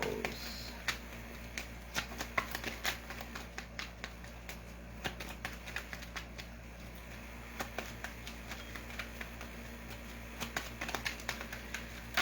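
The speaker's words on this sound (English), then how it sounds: "Two more shuffles." Tarot cards being shuffled by hand, heard as soft, close, repeated riffling clicks and flutters in short bursts over a quiet room background, with no talking.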